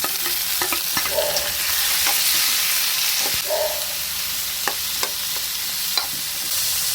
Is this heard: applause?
no